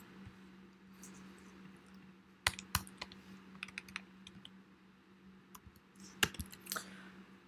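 Someone types on a computer keyboard in bursts of clicking keystrokes, with a few louder key taps and short pauses, close and fairly quiet over a low steady hum, with no talking.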